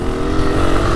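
A 2024 Honda CRF250F trail bike engine runs loud and close on a motocross track, a steady throbbing drone with slight surges in revs.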